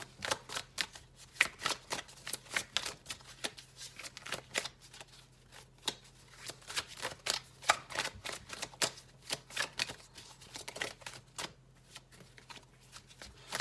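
A Mystical Manga Tarot deck is shuffled continuously, giving rapid, crisp riffling card flicks in quick bursts, close and moderately quiet, with a faint steady hum underneath and no talking.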